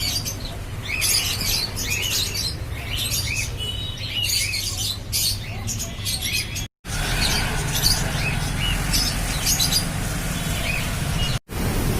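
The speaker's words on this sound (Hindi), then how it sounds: "यहाँ पे बहुत सारे चिड़िया वगैरह नए नए स्टॉक आके हैं" Many small birds chirp and tweet in a pet store, a dense, continuous chorus of overlapping high calls close by against a low steady background hum, briefly cut by two short gaps.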